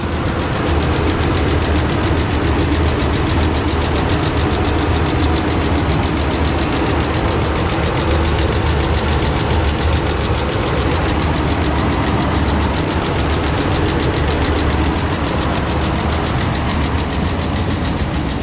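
A Hemi engine with its MDS deleted runs at idle on its first start, a loud, steady, close rumble with a constant ticking, knocking noise layered through it and no talk.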